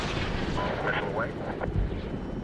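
A missile launch and explosion in the Medal of Honor video game, heard as a deep rumbling roar with a distant boom, while voices talk over it.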